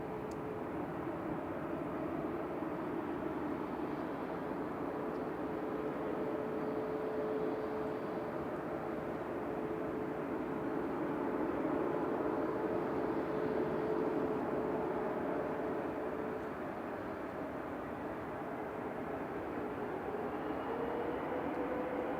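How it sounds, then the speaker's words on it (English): An Emirates Airbus A380 jet airliner at Manchester Airport, a steady distant engine roar that holds evenly throughout with a faint low hum, no voices. "it's the A380 with Emirates Flight 20 A6EO wireless"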